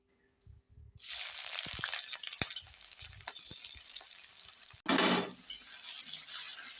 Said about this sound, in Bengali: পেঁয়াজটা আমি তেলের মধ্যে দিয়ে দিয়েছি। এইভাবে লাল লাল করে ভাজা হবে।